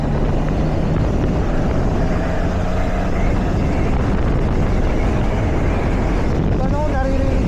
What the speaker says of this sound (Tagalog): naririnig mo yung tambutso pero parang magbulo